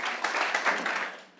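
A short burst of applause from the audience at a company employee meeting. It rises quickly and fades within about a second.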